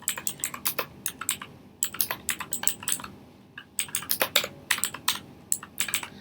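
Rapid bursts of computer keyboard typing, close and crisp, with short pauses between runs of keystrokes; no voices.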